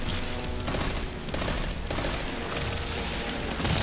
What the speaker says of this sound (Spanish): Ok, dos tiros de ráfaga y explotan.